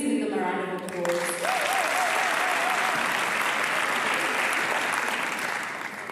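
Audience applause for sponsors at the Mr and Miss UJ APK 2024 pageant, a dense, steady roar of many hands clapping that swells in after a brief sung or spoken tone and holds loud for several seconds.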